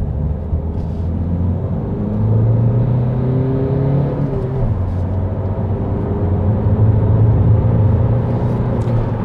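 Inside a Ford EcoSport on the road, the engine hums steadily with a rising and falling drone as the car accelerates and changes gear, over a constant low road rumble.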